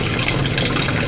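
Photographic film fixer pours steadily into a measuring cup, giving a continuous close, even rush of liquid with no pauses and no voices.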